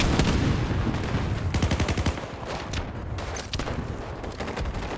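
Rapid bursts of gunfire from a multiplayer video game shooter, loud and close, with dense automatic volleys around the two-second mark and scattered single shots continuing throughout.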